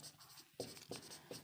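Chalk strokes on a board during a Hindi-language class 10 chemistry lesson, three or four short scratchy bursts in a quick rhythm, close and fairly quiet, with no talking over them.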